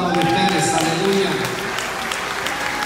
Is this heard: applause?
yes